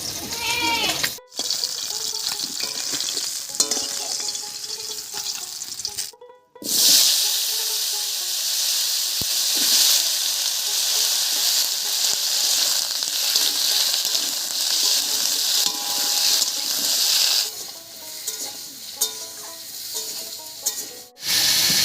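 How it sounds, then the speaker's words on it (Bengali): Kohlrabi and potato pieces dropped into hot oil left from frying pabda fish, giving a loud, continuous sizzling hiss that cuts out briefly a couple of times before resuming strongly. "এই তেলের মধ্যেই কপি আর আলুটা দেবো"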